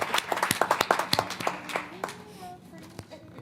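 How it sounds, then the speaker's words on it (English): A few people at a school board meeting clap in a sparse round of applause, sharp separate claps that thin out and fade after two seconds, with a voice speaking near the end. "I want to just give them a round of applause before we leave"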